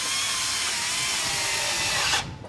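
Steady power drill whirring on wood during a boat restoration, loud and continuous for about two seconds before cutting off abruptly.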